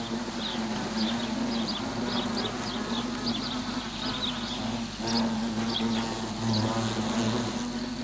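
Wasps swarming around their nest, a continuous close buzzing drone with individual insects whining past in repeated short bursts.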